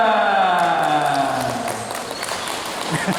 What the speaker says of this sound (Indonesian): Padahal saya bilang tidak usah tepuk tangan, malah tepuk tangan.